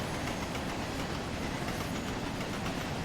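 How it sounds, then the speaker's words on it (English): A Stanier 8F steam locomotive runs in Train Sim World, its rolling wheels clattering in a dense, continuous rumble with a rhythmic clickety-clack, close and fairly loud throughout with no talk. "Let's go and drive a steam train"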